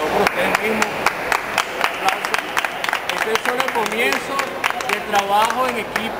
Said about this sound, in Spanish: creo que de verdad todos merecemos aquí un aplauso, por favor, por ustedes mismos.